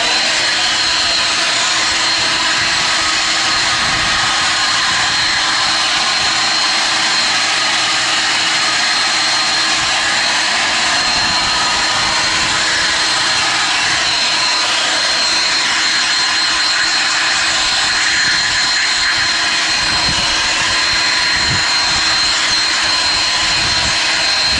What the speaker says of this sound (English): you can see this is not very practical as a heavy duty blower